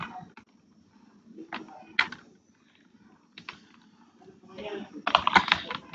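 Computer keyboard typing comes in scattered clicks and short clustered bursts, building to a denser flurry near the end, with a voice speaking in between.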